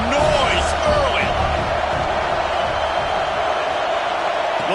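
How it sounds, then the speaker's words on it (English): Roaring crowd at an Auburn vs Notre Dame college football game in a packed stadium, a loud continuous wash of noise with a whistle-like tone, and an announcer talking over it. "This crowd bringing the energy and noise early."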